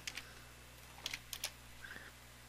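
Faint typing on a computer keyboard, a few scattered clicks and a short cluster of keystrokes over a low steady room hum, no talking.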